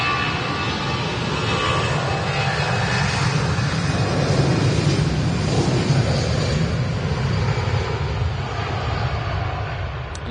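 An EasyJet airliner at Manchester Airport gives off a loud, steady jet roar that holds at full strength through the whole stretch, swelling slightly midway, with no talking over it.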